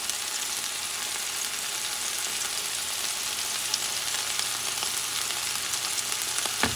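Garlic sizzling with sofrito in a hot pan for Puerto Rican bacalao guisado, a steady close hiss of frying with faint crackles and occasional stirring, no voices.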